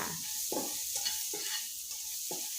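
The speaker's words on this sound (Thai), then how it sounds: "แล้วเราก็ใส่ พริกลงไปได้เลยนะคะ คั่วจนพริก โดนน้ำมันอีกสักหน่อยหนึ่งค่ะ" Chilies are stir-fried in hot oil for salt and chili shrimp: a steady close sizzle with repeated scraping strokes of a spatula in a pan at an even rhythm, and no talking.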